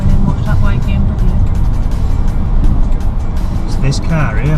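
Cars moving through multi-lane city traffic, a continuous low engine and tire rumble with vehicles passing nearby, steady and fairly loud throughout.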